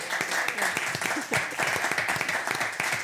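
Studio audience applause for a radio show winner, crisp individual claps forming a lively, slightly uneven patter, with voices talking and cheering over it.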